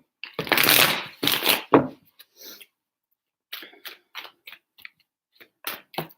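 Tarot cards are shuffled by hand close up, a few loud riffling bursts followed by quieter scattered taps and slides of the deck.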